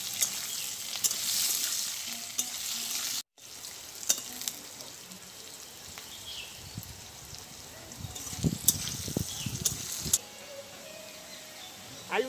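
Potatoes frying in oil for a hilsa curry give a steady sizzle with bursts of clatter and stirring scrapes, mostly mid-level, a brief cut near the start, louder crackling spells toward the end.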